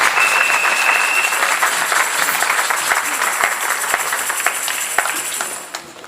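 A church congregation applauds the Lord together, a loud, sustained, dense wash of clapping filling the hall and fading slightly toward the end, with faint voices mixed beneath.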